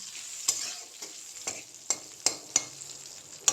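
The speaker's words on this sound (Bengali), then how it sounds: "এখানে বেগুন ভাজি করে নিচ্ছি" Brinjal slices frying in a pan, with a bright continuous sizzle and a run of sharp spatula clacks roughly every half second as they are stirred and turned, close and alone.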